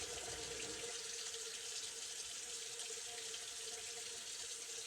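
Water runs steadily from a tap into a sink for a soap rinse after a night wet shave, a constant close hiss with no talk.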